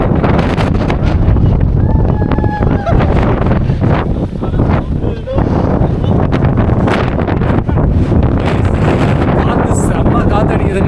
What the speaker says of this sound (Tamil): காற்று செம்ம காற்றடிக்குதுங்க